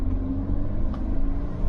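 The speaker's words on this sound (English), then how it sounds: "Yeah, she takes off nicely. Accelerates fine, the gear change is smooth." A car pulling away and accelerating on a test drive, heard as a steady, fairly loud low engine rumble that holds throughout without talk.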